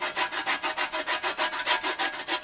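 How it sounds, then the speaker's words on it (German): An organic orange is zested on a grater: a steady back-and-forth rasping scrape, about ten even strokes each second, close and fairly quiet, with no talking. "Nehmen wir unsere Bio-Orange und reiben ein bisschen was"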